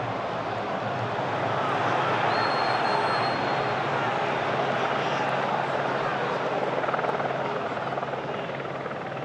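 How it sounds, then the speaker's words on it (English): A helicopter buzzes overhead above Old Trafford stadium during an England v Greece football match, a loud continuous rotor roar blended with crowd noise, steady throughout. "Probably hear the helicopter buzzing overhead, supplying bird-eye view of the Old Trafford pitch."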